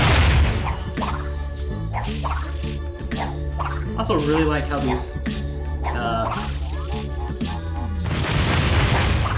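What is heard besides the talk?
explosions in the video game Crash Twinsanity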